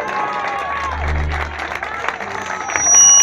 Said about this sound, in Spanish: les pido un fuerte aplauso a todos ellos